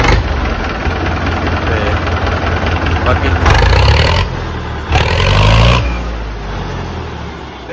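A modified HMT 5911 / Ford 3600 tractor engine runs at a steady, close idle, with two louder bursts of revving partway through. People talk over the engine noise.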